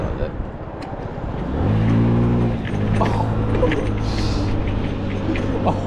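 A 50cc Honda Ruckus scooter at full throttle climbing a steep San Francisco hill, its small engine droning steadily and rising in pitch, loud and close, with a rider's voice over it.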